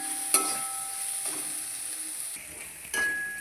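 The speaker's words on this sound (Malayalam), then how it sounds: "നന്നായി ഇളക്കി വഴറ്റിയെടുക്കുക" Onions and green chilies sizzle softly in a pan for a Kerala-style curry while a spoon stirs through them, with a few light scrapes over the continuous frying hiss.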